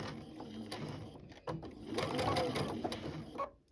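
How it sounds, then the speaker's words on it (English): A home sewing machine in a sewing room runs a short back stitch, a steady mechanical whir with a brief pause and stitching chatter, fairly quiet and close, stopping near the end. "I'm going to go ahead and take a back stitch at that point"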